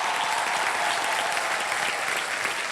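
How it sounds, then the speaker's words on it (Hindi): A studio audience at an Indian TV game-show taping bursts into loud, steady applause that fills the room for the full few seconds, with no voices over it. "बहुत जोरदार तालियां।"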